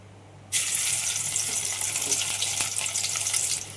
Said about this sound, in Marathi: तेल तापायला ठेवलं आहे मी आता यात घालते मी लसूण